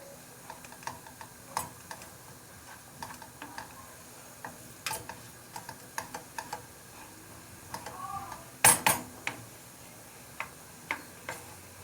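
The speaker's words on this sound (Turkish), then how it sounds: "sürekli karıştırarak pembeleşmesini sağlayacağım." A utensil stirs flour roasting in oil in a pan: soft, irregular scrapes and taps over a faint steady sizzle, with one louder knock cluster partway through and no voices.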